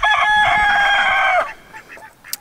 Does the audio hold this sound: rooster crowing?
yes